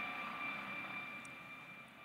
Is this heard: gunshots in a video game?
no